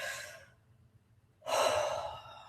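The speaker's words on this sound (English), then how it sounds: "It's breathing through the mouth." Deep breaths taken through the mouth: a breathy exhale fades out, a short quiet pause follows, then a strong, close inhale rushes in, heard alone without talk.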